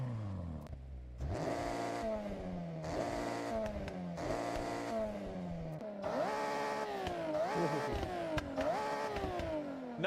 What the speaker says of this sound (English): let's do a little sound test as we scroll through these engines.